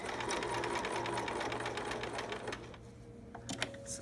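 A sewing machine topstitching a rectangle around soft Velcro on a preemie shirt, a fast steady close-up mechanical whir that runs for a few seconds then stops, leaving faint clicks and handling noises.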